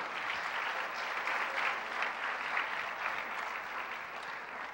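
A church congregation at a family worship service applauds steadily, a dense, even patter of many hands heard from some distance in a reverberant hall, with no talk over it.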